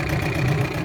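A 1975 Mercury 7.5 horsepower outboard engine on a Jon boat at Union Lake runs steadily, a low continuous idling drone with no voices.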